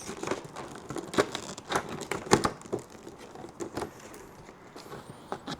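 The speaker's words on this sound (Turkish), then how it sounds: "Ve figürü açıyoruz." Plastic packaging of a Marvel action figure is torn open, giving close, crinkly crumpling and tearing bursts in uneven spurts, fairly quiet and without talk.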